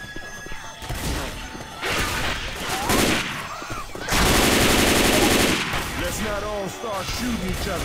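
Gunfire during a Left 4 Dead 2 zombie-survival game: bursts of automatic and rapid shots, with a dense loud barrage in the middle, mixed with game effects and background voices.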